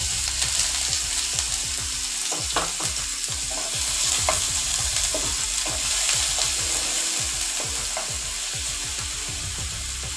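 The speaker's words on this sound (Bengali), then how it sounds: "পেঁয়াজটা আমার ভালো করে ভাজা হয়ে গেছে।" Onion paste frying and being stirred in a pan for a small-fish curry with potato, cauliflower and eggplant, a steady close sizzle broken by repeated scraping strokes of a spoon against the pan.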